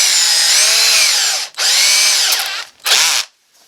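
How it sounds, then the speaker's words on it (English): A power drill fitted with a tiny bit bores a starter hole in heart pine for a fixed-blade knife handle, whining loudly in two long sustained runs and then one short burst, with no talking. "I use the smallest drill bit that I have to do this starter hole."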